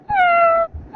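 A domestic cat lets out one clear, close meow with a falling tone that lasts under a second, heard alone in a quiet space.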